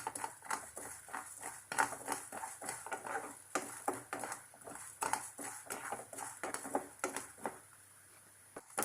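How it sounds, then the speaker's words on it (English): Mustard seeds roasting with other ingredients for a prawn ghee roast pop and spatter in quick, irregular clicks. The crackling is fairly faint and close, then thins out near the end. "Mustard splatters."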